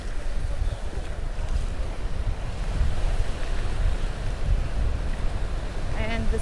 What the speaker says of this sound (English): The waves get the sand up.